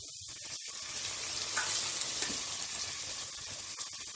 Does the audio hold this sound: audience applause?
no